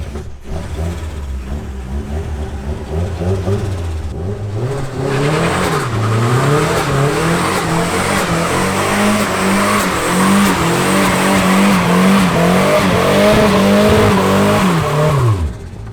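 A loud turbocharged Nissan S14 engine on a dyno revs hard and climbs in pitch, holding high for several seconds before cutting off abruptly; close and continuous, no talking.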